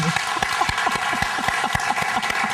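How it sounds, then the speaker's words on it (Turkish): An audience at a talk show on women and relationships claps in a steady, even burst of applause, with individual claps distinct and no talk over it. "Şöyle bir alkış alalım"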